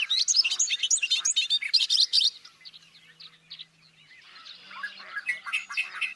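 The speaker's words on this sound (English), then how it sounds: "there's a Savannah sparrow singing in there" Bird song rings out in a natural outdoor setting, with a Savannah sparrow singing among other birds; a dense run of high chirps and tweets comes first, then after a brief lull more thin, buzzy calls return at moderate distance, with no talking.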